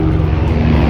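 A helicopter flies on the Hemkund Sahib trek with a loud, steady engine and rotor drone that holds close and constant throughout.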